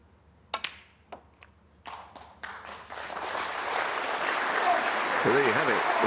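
Snooker crowd at the Players Championship final bursts into applause, starting with a few scattered claps that build into sustained, loud clapping filling the hall, with faint murmuring underneath.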